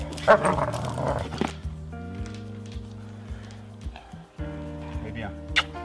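German shepherd dog barking in bursts around a house, loud close woofs at the start then intermittent barks over a steady low background hum, with someone speaking French at times.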